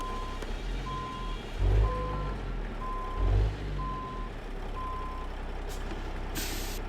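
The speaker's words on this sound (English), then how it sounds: "Set the brakes, shut the engine off." In a video game, a Mack Superliner truck's reversing alarm beeps steadily at a regular pace while the engine rumbles, with two deep hissing air-brake bursts and a sharp hiss at the end.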